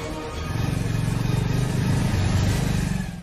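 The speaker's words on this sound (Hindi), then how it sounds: "चल जल्दी गाड़ी निकाल।" A car engine accelerates as the vehicle is hurriedly pulled away, a near, steady revving drone that swells in the middle and fades toward the end, with no talk over it.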